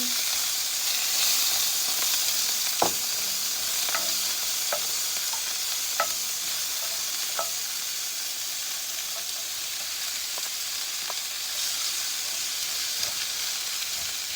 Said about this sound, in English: we're going to take our tomatoes and we're going to take our onions and we're going to add those to the pan